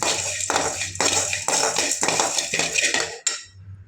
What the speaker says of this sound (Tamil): ஏலக்காய் விதையை போட்டுக்கலாங்க. போட்டு இதையும் ஒரு நல்ல ஒரு வறுத்துக்கலாம்.